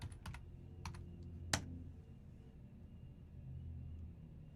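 Typing on a computer keyboard: a few faint, quick key clicks early on, with one sharper keystroke, over a low steady rumble.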